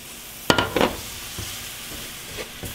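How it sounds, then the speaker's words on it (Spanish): A pan of flour roux being stirred as chicken broth goes in, giving a sharp sizzle burst followed by several softer sizzles and scraping stirs, fairly close and without talk. "Después de unos 30 segundos, le vamos a agregar el caldo de pollo"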